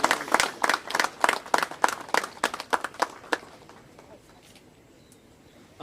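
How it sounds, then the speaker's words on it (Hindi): An audience at an Indian Army memorial ceremony in Tuting applauds with sharp, distinct claps in a quick rhythm that thin out and fade to near silence after about four seconds. "एक बार जोरदार तालियां"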